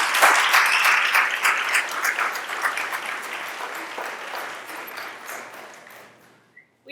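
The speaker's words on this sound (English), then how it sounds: "Can we please give all of our terrific kids another round of applause?" Parents and guests at an elementary school recognition event applaud the terrific kids, loud at first and gradually thinning and fading until it stops, followed by a brief quiet gap and a small sound at the end.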